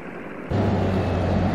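Tractor engine in Farming Simulator 2013 starts up abruptly partway through, a steady low droning hum that holds loud and close to the end.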